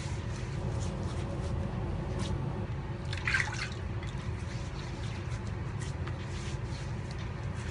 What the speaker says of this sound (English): so here we go. Wet the face.